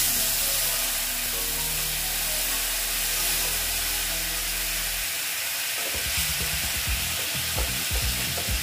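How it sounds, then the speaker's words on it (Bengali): Chili powder being stirred in a frying pan, a dense, loud, steady sizzle that turns into a hissing spatter with stirring scrapes near the end. "এখানে দিয়ে দিচ্ছি লঙ্কার গুঁড়ো, দিয়ে একটু নেড়ে চেড়ে নিচ্ছি"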